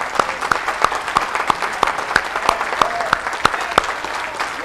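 A church congregation applauds, the clapping loud and fairly even, with sharp individual claps falling in a steady rhythmic beat.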